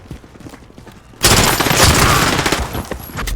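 Rapid submachine gun fire in Call of Duty: Modern Warfare, a loud sustained burst that erupts suddenly after a quieter stretch of faint game sounds and continues to the end.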